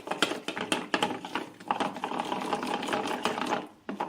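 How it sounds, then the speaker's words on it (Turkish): Flour being whisked by hand with cold water in a bowl for a bakery-style pide sauce, rapid rhythmic clicking and tapping of the whisk, close and continuous. "Bunu güzelce çırpacağım. Pürüzsüz bir kıvam alasıya kadar."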